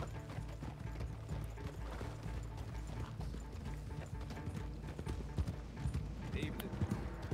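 A horse-drawn wagon in a western roleplay video game: steady hoof clip-clops over a constant rattling, shuddering clatter of wooden wheels, continuous and fairly dense at a moderate level.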